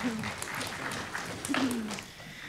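Soft, spread-out clapping from a Baptist church congregation during a Sunday worship service in Goldthwaite, Texas, runs through the whole moment, fairly quiet, with a low voice tone drifting beneath it.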